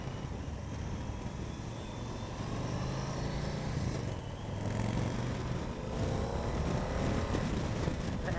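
A 2014 Yamaha Super Tenere motorcycle engine runs steadily under wind rush while riding, a continuous broadband drone that swells slightly midway and stays fairly loud throughout.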